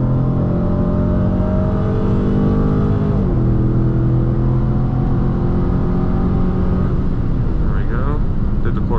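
A Dodge Challenger Scat Pack T/A 392 roars hard through a quarter-mile run on a dusty road, its engine droning loud and constant from inside the car with rising revs and a shift-like dip partway through.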